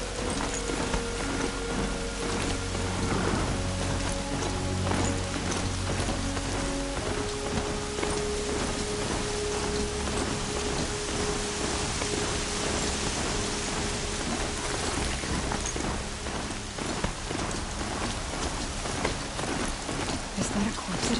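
Heavy rain in a robot dinosaur video game: a steady, dense hiss of downpour that runs unbroken for about twenty seconds, with low tonal game sounds humming beneath it.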